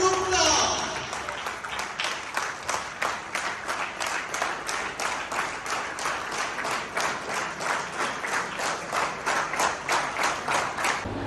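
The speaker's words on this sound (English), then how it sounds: "A big round of applause, ladies and gentlemen." Audience applauding the winner of a championship in Bikaner, a dense roar of clapping that settles into steady rhythmic clapping in unison, loud and sustained throughout.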